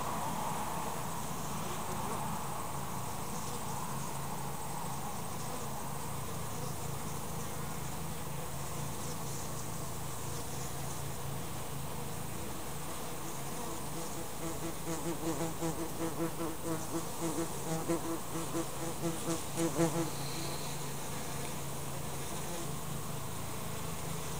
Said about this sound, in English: you can see one of the wasps trying to get in and get some of that food